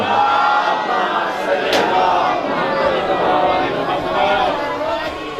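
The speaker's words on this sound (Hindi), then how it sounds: "बेशुमार सलवात बुलंद आवाज के साथ पढ़ें" A large crowd at a Muharram gathering recites salawat together in loud unison, a dense, sustained roar of many voices chanting close and strong throughout.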